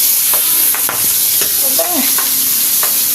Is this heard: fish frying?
yes